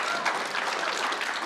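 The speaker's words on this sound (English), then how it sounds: "round of applause for Uday" An audience at a tech conference bursts into steady applause, a dense, even wash of clapping lasting a second and a half, fairly faint and without talk.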